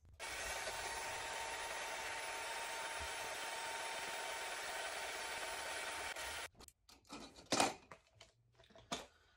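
Power drill fitted with a sock machine yarn-winding attachment spins a cone of bouclé yarn, giving a steady, even whir for about six seconds before it stops, followed by a few close handling clunks and rustles.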